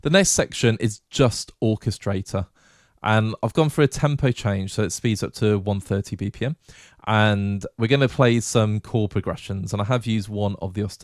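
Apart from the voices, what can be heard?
No distinct noise like a dog, phone or traffic.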